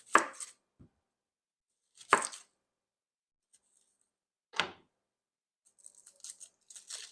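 A knife chops through an onion on a cutting board in a home kitchen while making an all-purpose tomato sauce, with three or four distinct, crisp cuts spaced apart and a few softer scraping sounds near the end.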